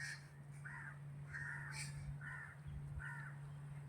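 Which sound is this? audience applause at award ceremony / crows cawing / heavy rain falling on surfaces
crows cawing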